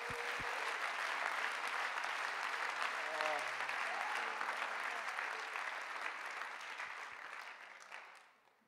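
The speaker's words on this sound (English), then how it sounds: "Let's clap our hands to the Lord." A church congregation claps together in a dense, sustained wave of applause, with a few raised voices calling out in the middle before the clapping tapers off and dies away.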